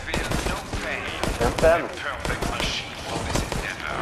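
Rapid bursts of gunfire from the video game Resident Evil Resistance rattle through the mix, sharp repeated shots running under a player talking throughout.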